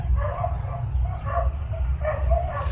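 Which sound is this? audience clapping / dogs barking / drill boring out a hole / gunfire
dogs barking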